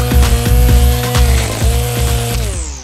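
String trimmer spinning nylon line to cut grass, a loud close motor whine with a buzzing, pulsing edge that wavers and dips slightly in pitch as it works.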